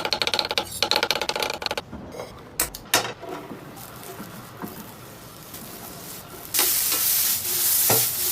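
Beef hits a hot pan for a stew with mushrooms and sizzles as it is stirred and scraped with a utensil, and the frying hiss swells louder toward the end.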